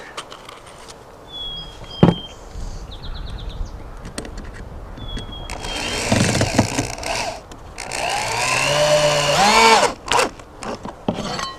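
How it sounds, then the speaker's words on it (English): A power drill drives screws into the base plates of a sauna wall under construction, with short bursts of whirring and a sharp knock, then a longer, louder stretch of drilling and wood noise, close and fairly loud. "Screw your base plates down nice and snug."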